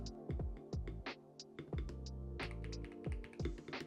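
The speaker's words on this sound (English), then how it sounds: "That space bar's got a nice sound." A 75% keyboard with Hall effect magnetic switches is typed on, including its space bar, producing close, deep thocky key presses in an irregular rhythm, several strikes in quick succession.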